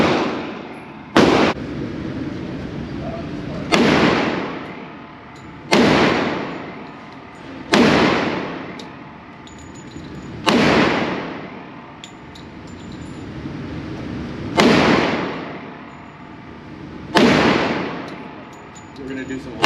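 A S&W M&P 2.0 10mm pistol fires eight loud, sharp shots at a steady pace of roughly one every two to three seconds. Each report is followed by a ringing, reverberant decay.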